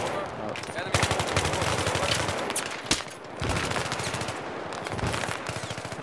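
Rapid automatic gunfire rattles in the Battlefield 3 shooter, with dense bursts of shots repeating across the whole stretch with only brief gaps.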